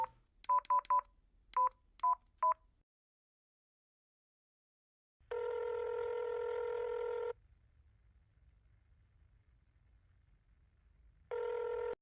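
Telephone keypad dialing: a quick series of short, clean touch-tone beeps in uneven bursts, then silence, followed by long ringback tones from the line, quiet and isolated with no talking.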